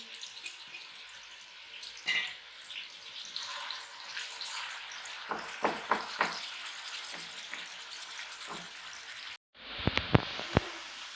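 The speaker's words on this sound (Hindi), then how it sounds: "ऑयल गर्म हो चुका है, अब हम इसमें प्याज डालेंगे। प्याज को हम अच्छी तरह फ्राई करेंगे।" Onions fry in hot oil in a pan with a faint, close sizzle. A series of light clinks and scrapes from stirring run through it, and a brief louder burst comes near the end. No one speaks.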